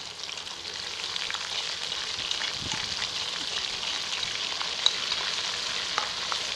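Ginger garlic paste frying with golden potatoes in a karahi for Afghani aloo karahi: a steady, close, dense sizzle with occasional stirring scrapes and light clicks throughout.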